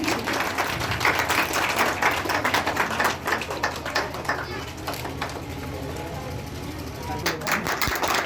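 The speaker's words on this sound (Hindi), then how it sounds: "जोरदार ताली बजनी चाहिए।" An audience claps through a school inauguration ceremony for Aryabhatta Gyan International School in Mithila, Bihar: steady, dense applause with crisp individual claps, continuing under someone speaking.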